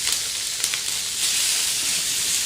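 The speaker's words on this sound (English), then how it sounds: "When you hear the sizzle, it's going to finish off that cooking." Steady, bright sizzling from mackerel burgers frying in a hot pan, continuous and close, with no voices.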